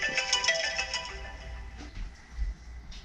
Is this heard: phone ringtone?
yes